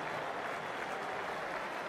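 A stadium crowd in the Ashes Cricket video game applauds steadily, with dense, even clapping that holds at a constant level throughout and carries no voices over it.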